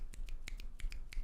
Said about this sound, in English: they expected us to like start snapping